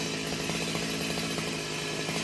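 A chainsaw runs steadily and loudly while cutting through a melaleuca tree branch near a lake, its engine whine continuous and close throughout.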